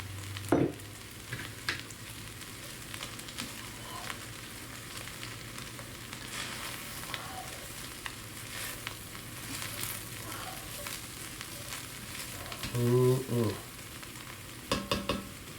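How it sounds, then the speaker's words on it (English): Kidney beans and corn stirred into a ground beef stew pot where flour is cooking, giving a soft steady sizzle with occasional scraping and clunking of a utensil, faint and close. "I'm going to put my kidney beans and my corn in here."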